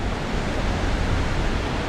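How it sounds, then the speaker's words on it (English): The Pickerel River rushes past, a loud, steady broadband roar of flowing water close by with no pauses. "there's some flowing water, that's for dang sure"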